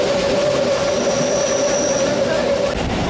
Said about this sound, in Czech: Vláček nás veze nahoru.